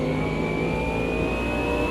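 McLaren race car engine in a racing video game, a loud, steady high-revving drone with a slowly falling whine, close and unbroken.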